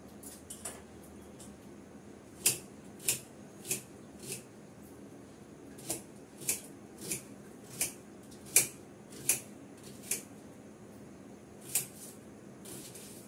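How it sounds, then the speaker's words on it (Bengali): A knife slices through an onion on a board, giving about a dozen crisp, separate cuts at an irregular, unhurried pace, close and moderately quiet against low background hum. "একটা পেঁয়াজ কেটে নেব"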